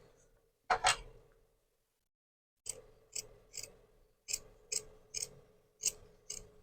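Scissors trim excess fabric on a corset dress, giving a sharp opening snip, a pause, then a quick run of about nine crisp, close, evenly spaced cuts.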